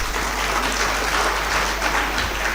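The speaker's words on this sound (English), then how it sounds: "Please give them a round of applause." Applause from a lecture hall audience for presenters leaving the stage at a university humanities lecture day, a steady, moderately loud patter of many hands over a low constant hum.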